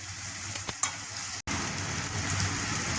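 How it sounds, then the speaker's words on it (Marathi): Tomatoes fry in oil over a low gas flame for a mung dal curry, giving a steady close sizzle with a couple of faint clicks early on and a brief dropout midway, no talking. "आणि छान बारीक बारीक गॅसवरती चांगलं फ्राय करून घ्यायचं टमाटर वेगळी व्हायला पाहिजेत"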